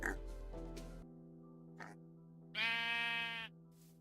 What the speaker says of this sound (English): The next animal is a sheep.